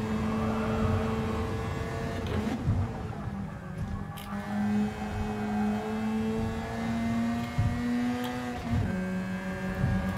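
Mazda rotary race car engine in Gran Turismo Sport, a steady high droning whine held at speed with small pitch shifts, continuous and prominent with no talk over it.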